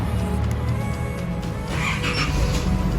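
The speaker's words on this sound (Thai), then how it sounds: "เครื่องยนต์ก็จะสตาร์ติดนะ" Isuzu Adventure diesel engine started with an aftermarket push-start button: a low, steady idling rumble close by, with a brief rise in higher-pitched mechanical noise near the end.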